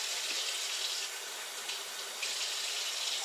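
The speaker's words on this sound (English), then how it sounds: "I've always rinsed my meat." Tap water runs steadily into a sink while chicken thighs are rinsed, a continuous close hiss and splash with slight shifts as the flow is interrupted, with no voices.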